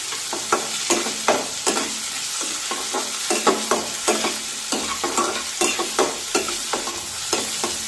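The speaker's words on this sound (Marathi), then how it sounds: "एक बारीक चिरलेला टोमॅटो टाकूया। परतून घेऊया।" Chopped tomato sizzles in a hot pan while being stirred for a Marathi farsan bhaji, with a steady frying hiss broken by frequent sharp scrapes and clacks of the spoon, close and without talk.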